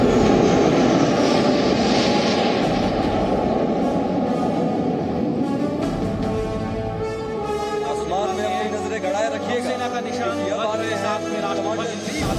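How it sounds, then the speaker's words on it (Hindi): MiG-29 fighter jets roar low over an Indian Navy aircraft carrier ceremony, a loud continuous engine rumble that fills the whole stretch, with a commentator's voice running over it. "आसमान को चीरते आ रहा है मिग-29 के लड़ाकू विमानों का यह दस्ता"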